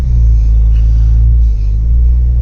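A Dodge Dakota truck engine rumbles loud and close as the truck drives off after starting, a steady low drone with a slight shift partway through.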